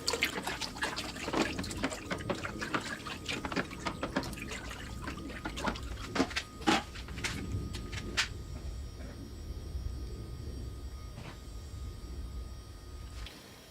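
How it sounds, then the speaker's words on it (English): Hydroponic nutrient solution is stirred in a container of water, giving close splashing and sloshing with light clinks that fade into a faint, steady trickle and hum. "And then we're gonna stir it."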